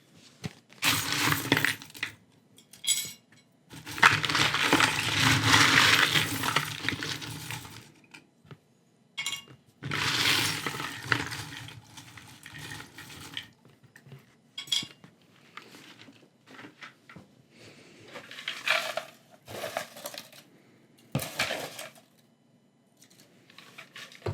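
Small metal charms jangle and clink in repeated bursts as they are pulled, close and fairly loud, with quiet gaps between the rattling handfuls.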